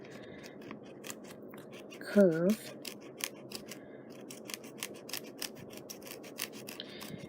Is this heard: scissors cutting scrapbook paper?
yes